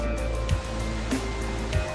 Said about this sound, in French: Une pluie torrentielle est en train de tomber sur Paris.